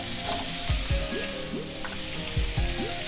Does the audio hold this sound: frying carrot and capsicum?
yes